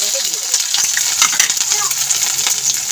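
Chopped onion and green chilli fry in hot oil with a loud, steady sizzle and crackle, along with occasional clinks and scrapes from stirring.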